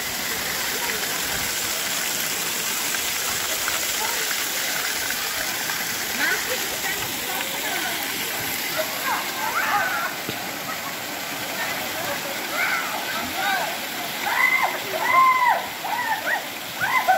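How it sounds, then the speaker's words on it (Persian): Spring water gushing out from many points of a mountainside beside a river and waterfall, a steady broadband rush of flowing and splashing water, fairly close, with faint voices and bird-like chirps mixed in toward the end. "از هر نقطه کوه میبینیم که آب میاد بیرون"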